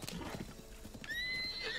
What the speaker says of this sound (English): By running it over with my horse.